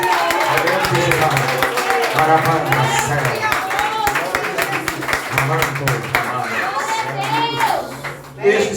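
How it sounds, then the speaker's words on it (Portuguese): A church congregation claps in rhythm during worship, a repeated beat of many hands running throughout, mixed with voices and a child-like chatter in the room. "Aplauda ao leão de Judá."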